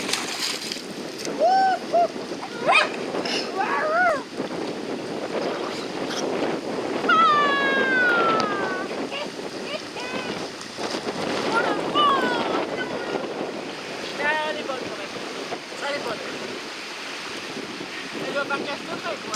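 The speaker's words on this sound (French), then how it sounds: "c'est une rivière d'altitude" A high-altitude mountain river flows with a continuous broad rushing wash, while people talk and call out over the water.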